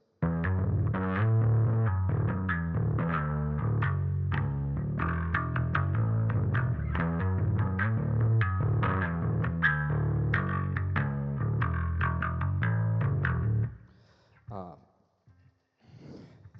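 Electric bass plays a busy, syncopated riff with chorus effect for most of the stretch, then stops and a few breathy sounds follow.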